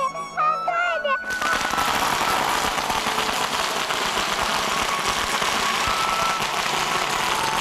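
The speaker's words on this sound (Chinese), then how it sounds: "放鞭炮喽" A long string of firecrackers set off for Hakka New Year bursts into a dense, rapid, loud crackle that runs without a break after brief talk at the start.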